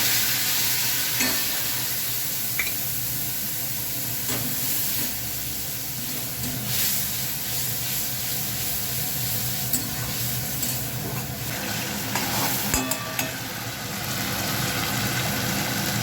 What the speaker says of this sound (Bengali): এবার আদা, জিরে, লঙ্কা যেটা বাটা ছিল সেটাও দিয়ে দিলাম